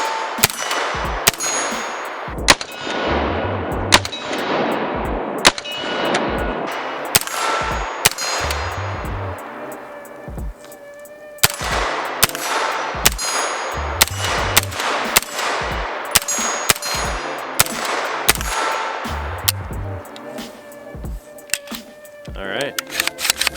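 A pistol caliber carbine firing a long string of sharp, loud shots at a steady pace, each one ringing out with a clanging echo and decay, near and continuous across the stretch.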